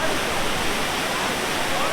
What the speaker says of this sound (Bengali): এখানে পানির ফ্লোটা কিন্তু অনেক সুন্দর এবং দুধের মতো পানি পড়তেছে